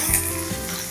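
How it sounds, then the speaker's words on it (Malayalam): Crushed garlic and curry leaves sizzling in hot oil, a steady close crackling hiss with a couple of faint stirring scrapes, for chena upperi. "പൊരിഞ്ഞ് വരുമ്പോഴത്തേക്കിന് വെളുത്തുള്ളി ചെറുതായിട്ടൊന്ന് മൊരിയണം."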